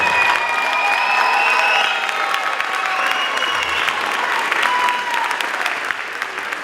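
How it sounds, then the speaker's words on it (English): Sustained crowd applause at an 8th grade STEM Academy graduation for the STEM scholars, steady and full throughout with a few faint cheers mixed in. "Let's give our STEM scholars another round of applause."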